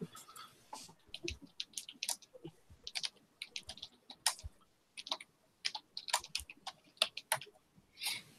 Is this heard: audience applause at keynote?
no